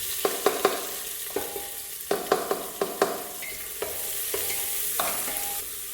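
Chopped onions frying in ghee with whole spices, a steady sizzle broken by repeated sharp scrapes and clacks of a stirring spoon against the pan, close up with no talk.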